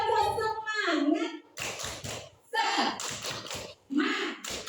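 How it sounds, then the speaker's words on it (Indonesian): Children perform a rhythmic Indonesian spirit clap, tepuk semangat, in a classroom, with bursts of quick, crisp group clapping in set patterns alternating with chanted voices and talk. "Tepuk semangat."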